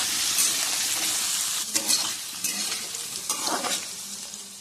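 Potatoes frying in white oil, a loud close sizzle with stirring scrapes and bursts of spattering, steady throughout with no voices.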